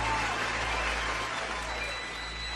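Studio audience applause on a talk show, a steady wash of clapping and crowd noise heard close and fairly loud, with a faint voice underneath.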